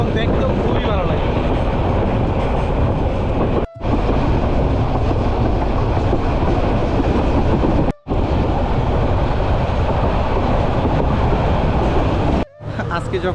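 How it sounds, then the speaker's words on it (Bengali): An Egarosindhu passenger train runs on the rails with a loud, continuous rumble and rattle, heard from on board. The noise drops out briefly three times, and no voices can be made out over it. "এখন এই মুহূর্তে ময়মনসিংহ থেকে ছেড়ে আসা এই ট্রেনটি হঠাৎ করে রাস্তায় থেমে যায়"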